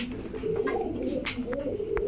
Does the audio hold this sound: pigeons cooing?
yes